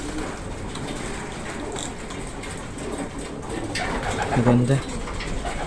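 Racing pigeons coo in a loft full of hens, low soft cooing phrases rising near the end over steady ambient noise while someone speaks briefly.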